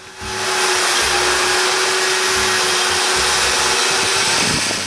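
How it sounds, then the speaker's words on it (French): A power saw cuts a wooden plank at an angle in a workshop; the motor spins up and holds a loud, steady whine for several seconds, close by, then begins to wind down, with no voices. "Pour ça, je coupe une planche en angle."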